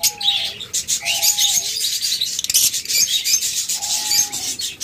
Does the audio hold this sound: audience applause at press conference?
no